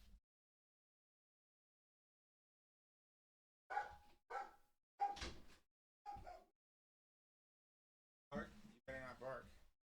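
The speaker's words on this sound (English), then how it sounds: "my dog's a little crazy" A pet dog barks indoors in a few short, sharp bursts separated by silence, loud and close, with a couple of quick yips clustered near the end.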